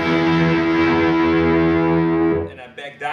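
Electric guitar through a Bullet-ray Fluffgirl distortion pedal, played with a single cable: a loud, sustained fuzzy chord rings for over two seconds, then cuts off into a few short choppy notes.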